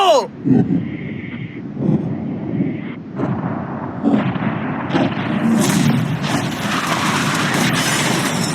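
A yacht being blown up in a big outdoor stunt: a loud, close explosion with deep booming rumbles and crackling debris, followed by long roaring noise, with a voice shouting near the start.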